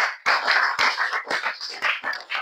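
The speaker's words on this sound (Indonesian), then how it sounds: "Tepuk tangan untuk Winza" Audience clapping in bursts for a student candidate at a high school student council election debate at SMAN 2 Jombang, several uneven waves of claps close by.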